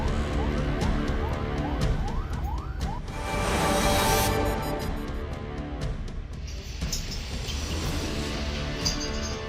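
Wailing siren of a fire engine arriving at a house fire, rising and falling steadily and loudly throughout amid dense street noise and traffic.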